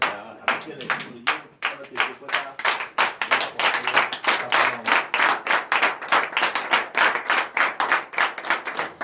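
Congregation clapping in unison during a French-language morning prayer service in Benin, a steady rhythmic beat of sharp hand claps at close range, with voices faintly underneath.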